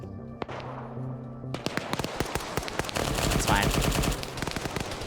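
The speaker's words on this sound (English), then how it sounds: "I'm getting my mortars on it." Gunfire and explosive impacts in a military video game as mortars are called onto an area, a dense run of sharp reports and booms after a brief quiet start, with a voice speaking briefly over it.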